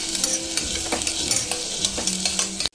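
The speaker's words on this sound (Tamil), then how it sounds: "இந்த பாட் பட்டை ஏலக்காய் கிராம்பு போட்டுக்கலாம் போட்டு அதே நல்லா வதக்கிக்கலாம்" Cinnamon, cardamom and cloves sautéing in oil in a pot for a vegetable stew make a close, steady sizzle with rhythmic stirring scrapes, ending abruptly.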